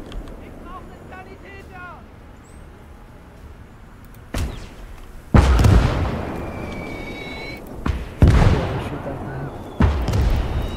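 White phosphorus artillery shells bursting in the WWII strategy game Gates of Hell, several heavy booming impacts with rumbling tails arriving one after another after a quieter stretch, someone talking faintly at the start.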